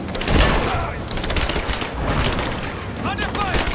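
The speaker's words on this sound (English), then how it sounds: "We're under attack! We're under fire!" Sustained gunfire in a firefight in the video game Rise of the Tomb Raider, with dense overlapping shots and bursts rattling continuously, loud and close, while voices shout over it.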